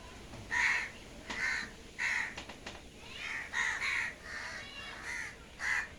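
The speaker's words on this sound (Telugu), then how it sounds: "కాకులు ఉన్నాయి చెట్టు మీద కాకులు ఉన్నాయి" Several crows caw repeatedly from a tree in slow, uneven bursts, moderately loud against a quiet outdoor background.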